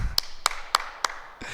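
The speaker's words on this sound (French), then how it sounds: "on s'applaudit" Four slow, even claps ring out in a row, crisp and close, followed by a soft rustle, from a small group during a martial movement exercise class.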